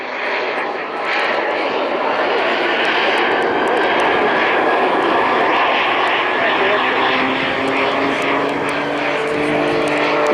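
Jet Pitts aerobatic biplane performing at the Blackpool Airshow, its engine giving a loud, continuous roar that swells and shifts as it manoeuvres, heard outdoors under an announcer's commentary.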